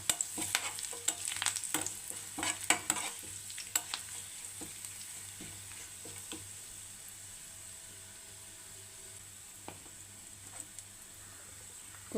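Green chillies and curry leaves drop into hot oil for a coconut chickpea curry, bursting into a sharp crackle and a few spoon scrapes, then settling into a quieter, steady sizzle with an occasional pop.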